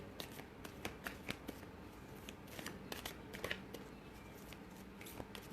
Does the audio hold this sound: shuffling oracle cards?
yes